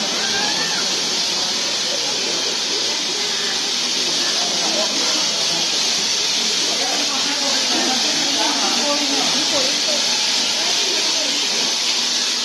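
A steam locomotive on the Nilgiri toy train line, Mettupalayam to Coonoor and Ooty, hisses steadily at close range, a broad continuous rush of steam with faint voices of people talking mixed into the background.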